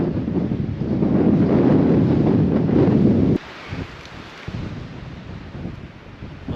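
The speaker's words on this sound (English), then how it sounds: "it's windy and chilly, but it's not awful" Strong wind buffeting the microphone on the summit of Mount Moriah, a loud roaring gust for about three seconds that abruptly drops to lighter, fluttering wind noise.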